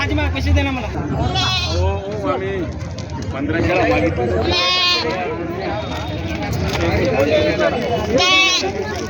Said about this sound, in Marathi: एकच नंबर शेळी आहे